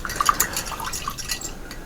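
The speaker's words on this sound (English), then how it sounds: "I'm just rinsing off the brush." A paintbrush is rinsed in a small container of water, giving soft, close drips and light sloshing with a few bright tinkling splashes over about two seconds.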